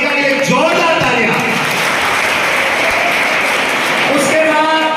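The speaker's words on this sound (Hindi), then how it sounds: "एक बार मोनिका के लिए जोरदार तालियां" An audience at a college Constitution Day competition claps for a third-place prize winner, a dense burst of applause that holds steady and swells slightly near the end, with a voice faintly audible beneath it.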